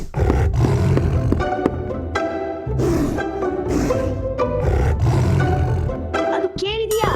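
A tiger roaring in a children's animal adventure scene, with loud, dense roars and growls over busy music and effects throughout, fairly close and continuous.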